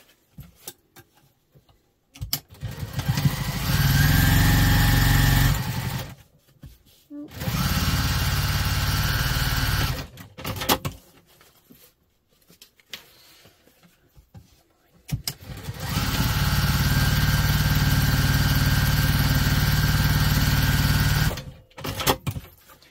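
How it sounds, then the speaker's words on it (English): A sewing machine stitches down the flap of a double-compartment crossbody bag in three long steady runs of rapid motor whirring, separated by short pauses with small clicks and handling noises. "And then you're literally just sewing this flap down to there."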